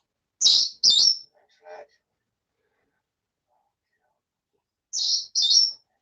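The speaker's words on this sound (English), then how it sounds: "I've got a Senegal parrot acting the damn goat." Senegal parrot squawking indoors in two bursts, a pair of loud shrill calls at the start and another pair near the end, separated by near silence with a faint brief chatter.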